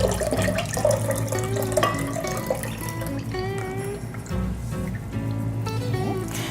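Meyer lemon juice is poured into a drink in a kitchen, a continuous liquid splash and trickle heard close up, with faint tonal sounds behind it.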